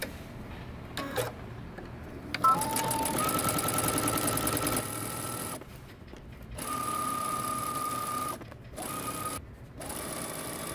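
A sewing machine stitches the hem of a coat at a 1.5-inch allowance, running in several bursts of rapid, even ticking broken by short pauses between runs.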